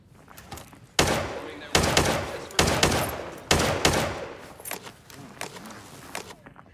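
Gunfire in the Arena Breakout shooter game comes in several loud, close bursts, each shot sharp and echoing, with quieter shuffling and scattered shots trailing off afterward.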